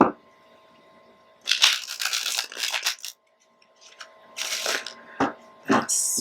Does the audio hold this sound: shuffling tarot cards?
yes